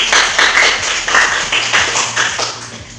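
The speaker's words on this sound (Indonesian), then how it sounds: "Mari kita kasih aplaus buat" Students applauding in a classroom: a loose scatter of hand claps in uneven bursts, close and fairly loud, tapering off toward the end.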